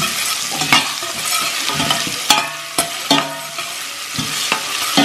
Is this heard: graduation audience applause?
no